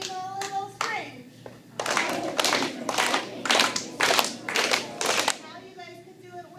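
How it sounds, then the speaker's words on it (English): A steady clapping-game rhythm of hands clapped and tapped on the body, with an even beat of sharp, close claps and a voice speaking briefly at the start. "it's a clapping game, and the rhythm doesn't change"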